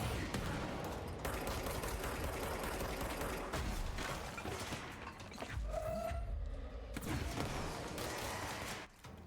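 Sustained automatic gunfire in the video game Control, loud dense bursts rattling almost without pause across the whole stretch, with a brief lull near the middle.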